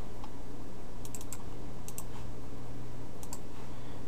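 Quiet typing on a computer keyboard to name a new folder, a few short bursts of crisp clicking keystrokes with pauses between, close up over a low steady hum.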